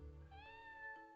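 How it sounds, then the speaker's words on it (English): A single short cat meow, rising then sustained, triggered by a button in the video game Everdeep Aurora, clear and alone. "I have a button I can meow with the button, and it's very cute"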